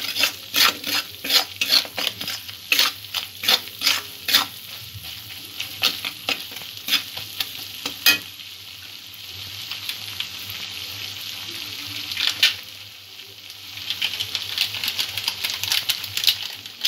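Spice mix with a spoonful of coriander powder frying in a pan, heard as fast, repeated spoon scrapes and knocks against the pan over a continuous sizzle, easing to a quieter fry midway before brisk stirring picks up again.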